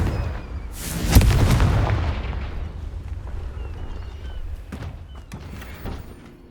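In Hogwarts Legacy, a Confringo fire spell bursts into a deep booming explosion that rumbles and decays over a few seconds, followed by faint crackles and small debris sounds.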